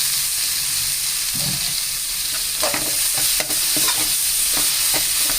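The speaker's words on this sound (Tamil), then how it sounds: "இதை நல்லா வதக்கி விட்டுட்டு" Banana stem poriyal sautés in a pan, with a spatula scraping and tossing it. Near, loud sizzling hiss continues throughout, punctuated by repeated scrapes and knocks of the spatula.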